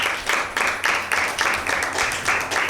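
Applause for a team answering correctly at a Mother's Day Bible quiz show, heard as a steady wash of many hands clapping in repeated swells, moderately loud and with no talk over it.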